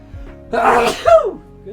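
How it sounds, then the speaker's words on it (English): A single close, loud sneeze rises from a brief intake of breath, with a short voiced tail after the burst. "I'm gonna sneeze, aren't I?"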